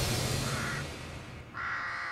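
A rook caws twice, a harsh drawn-out call followed after a short pause by a second, fairly near and clear over a low rumbling background.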